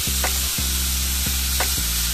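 Beef salpicao with mushrooms fries in a pan with a constant loud sizzle, while a spatula scrapes through it in three or four regular strokes, with no voices.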